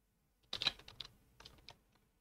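A short, quiet burst of computer keyboard typing: a quick cluster of crisp key clicks followed by a few sparser taps, with no voices.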